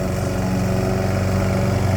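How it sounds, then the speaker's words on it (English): A weak-sounding lawn mower runs steadily nearby, its thin, buzzy engine drone holding one even pitch, loud and continuous with no pauses. "Oh man, that's a weak lawnmower."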